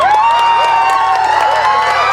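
Audience at a taluk-level Kannada literary conference closing ceremony breaks into loud, sustained applause with cheering and whoops, a close, dense crowd sound filling the whole moment.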